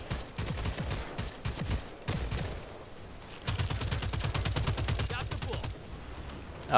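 Rapid carbine gunfire in the co-op shooter Second Extinction, long close bursts of sharp repeated shots with brief gaps between them, loud and dominant throughout.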